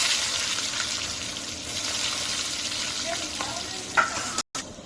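Garlic and dried chilies fry in hot oil for khichuri, a steady close sizzle running throughout with a few faint stirring scrapes and a brief gap near the end.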